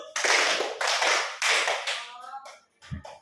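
Children in a classroom circle game clap together on cue, a few loud bursts of group claps followed by a quieter tap, with a voice briefly heard between them.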